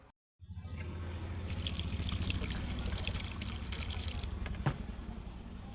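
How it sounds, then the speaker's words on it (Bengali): Broth poured into a dried fish curry, a steady continuous pour of liquid starting abruptly after a brief silence and running on at even, moderate loudness. "এখন ঝোল দিয়ে দিব পরিমাণ মতো।"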